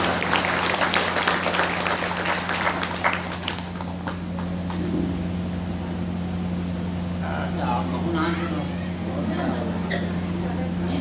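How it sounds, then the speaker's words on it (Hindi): Applause from an audience at a devotional gathering honoring Sadguru Kabir, a broad steady patter of clapping filling the first few seconds and then thinning, with a constant electrical hum underneath. "एक बार जोरदार तालियों से उनका अभिनंदन।"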